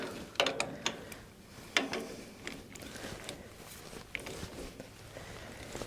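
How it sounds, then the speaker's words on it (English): Ratchet tightening bolts on a Farmall 140 cultivator, faint sharp clicks and metallic ticks in uneven bursts at close range, with scattered handling clanks between them. "I went and got a ratchet."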